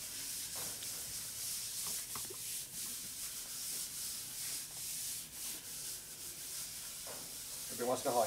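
Scrubbing and rubbing on oily parts from a 2000 Harley FXR Evolution 80ci motor during a rebuild, a steady close abrasive hiss with irregular strokes throughout and no talk.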